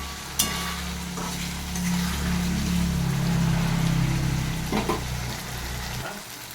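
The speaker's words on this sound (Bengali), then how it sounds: "মশলাটাকে খুব ভালো করে কষিয়ে নিচ্ছি আমি" Spice paste for mussoorie dal fries in a pan with a steady close sizzle and occasional stirring scrapes, accompanied by a low hum throughout.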